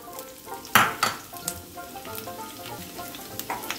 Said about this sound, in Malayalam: എണ്ണ ചൂടായിട്ടുണ്ട്. ആദ്യം നമ്മൾ ഒരു വെളുത്തുള്ളി അങ്ങ് ഇട്ടു.